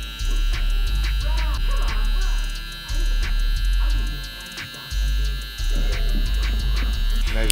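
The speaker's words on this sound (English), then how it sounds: "All right, so now I'm going in with my trimmer." LoProFX hair trimmer lining up a haircut, a steady close electric buzz that runs almost continuously and cuts off in short gaps as the blade lifts from the head, with faint clicks between passes.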